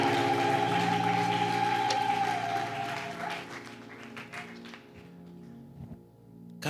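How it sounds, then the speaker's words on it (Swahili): Applause from a church congregation fills the first few seconds with dense clapping, then thins and fades toward the end, with a steady sustained tone underneath. "Mtu fulani mpe Yesu makofi once again"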